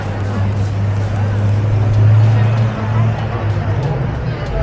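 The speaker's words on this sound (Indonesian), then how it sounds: "Begitu ramainya. Shibuya Crossing. Orang pada nyebrang." Busy street ambience at Shibuya Crossing in Tokyo: a steady low traffic rumble with crowd murmur and people crossing, continuous and fairly loud, with voices talking throughout.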